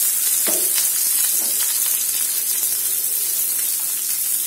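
Stuffed okra, bharva bhindi, frying gently on a low flame, a steady close hiss and crackle of oil with a couple of faint spatula scrapes early on, no voices.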